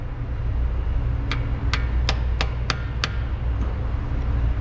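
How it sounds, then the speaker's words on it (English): Six sharp metallic taps from a hammer on an impact socket, driving a transmission seal into the housing of a 2004 GMC Sierra, spaced evenly over a steady low hum. "What I'm going to use to install it is just an impact socket and a hammer"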